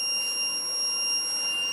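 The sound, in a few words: active buzzer module sounding at 5 volts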